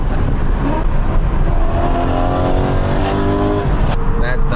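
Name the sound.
BMW E92 M3 exhaust note while driving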